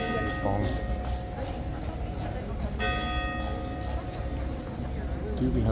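Horse hooves clip-clop at a steady pace near a tunnel, with a church bell ringing and voices chatting in the background of a busy outdoor street.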